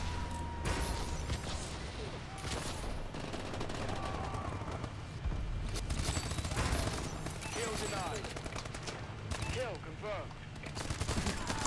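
Rapid gunfire in the video game Call of Duty: Advanced Warfare, dense overlapping shots and bursts throughout, with a voice talking intermittently over the action.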